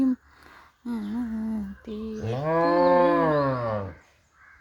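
A cow moos loudly and close by, a few drawn-out lowing calls with rising and falling pitch, the longest in the middle.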